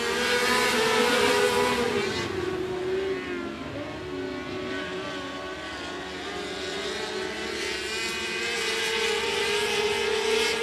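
Stock cars racing around the oval at 105 Speedway, a loud continuous multi-engine roar with wavering pitch as cars pass and sweep through the turns.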